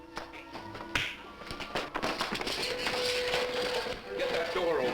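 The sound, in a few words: knocking on a door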